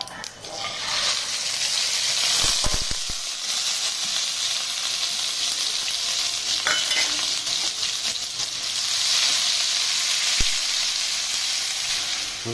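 Onion paste for a chicken gizzard fry sizzles steadily in hot oil, a loud continuous hiss with a few clinks and stirring scrapes near the start and end.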